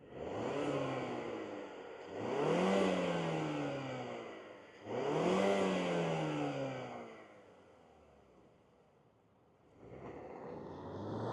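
A 2025 Mazda CX-30 Turbo SUV with its turbocharged engine revs up in three swelling pulls that fall back between them, then settles to a low idle before a fourth rise, heard close with no talk.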